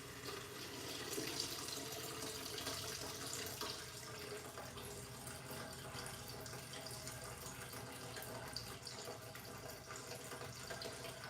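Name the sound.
pouring liquid for candle making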